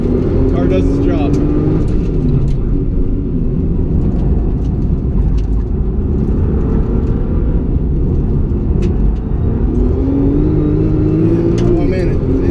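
A Nissan GT-R NISMO engine drones loud and steady on a figure-eight track, pitch climbing in rising sweeps as the car accelerates out of corners, with a voice talking over it.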